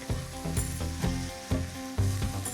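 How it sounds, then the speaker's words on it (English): Chopped onion with a clove of garlic gently frying in a wide, shallow pan, a close, steady sizzle with soft rhythmic stirring scrapes and no talk. "Gently fry 1 large chopped onion with a clove of garlic."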